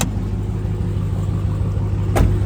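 A 2018 Dodge Demon with a supercharged engine and custom exhaust idles with a steady, deep low rumble close by, and one brief sharp burst rises near the end.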